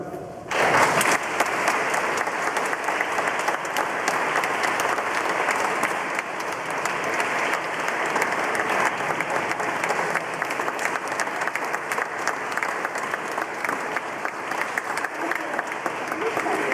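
Applause fills a parish day gathering at Brezovica, starting abruptly and holding as a loud, dense, sustained clatter of many hands for over fifteen seconds with faint crowd murmur.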